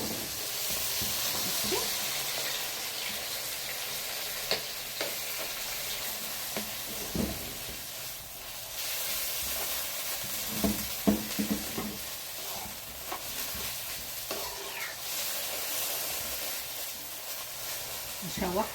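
Syrian shawarma meat sizzles and fries in a pan, a steady broad hiss broken by scraping stirs and occasional clatters, heard close at moderate volume with no talking.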